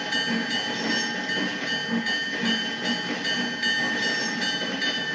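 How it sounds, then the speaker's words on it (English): A locomotive in the Trainz train simulator game moves along the Delaware River Railroad, giving a steady rolling rumble with faint recurring clacks and metallic tones, heard alone without speech. "For some reason, this locomotive always reverses a little bit before going forward."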